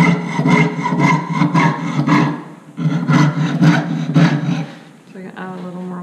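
A jeweller's piercing saw blade strokes back and forth through metal at a jewellery bench, a rhythmic rasping cut of about a dozen close, fairly loud strokes that pauses briefly midway and then trails off.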